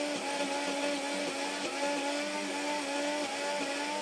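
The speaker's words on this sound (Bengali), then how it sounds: "ফাইনালি আমার পেঁয়াজ ব্লেন্ড করা হয়ে গেছে" A blender steadily purees onion for a hair remedy, a loud continuous motor whir with slight pitch wobbles throughout, alone with no talking.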